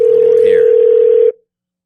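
A telephone dial tone sounds as a loud, steady, unbroken hum that lasts over a second before cutting off abruptly. Faint background voices sit underneath it.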